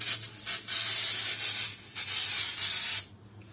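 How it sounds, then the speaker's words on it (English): Brake cleaner is sprayed across a front brake disc on a Volkswagen Audi SEAT car: a few loud, close hissing bursts with short gaps between them, ending in quiet. "you just give it a spray of brake cleaner on the whole disc"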